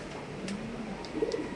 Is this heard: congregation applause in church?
no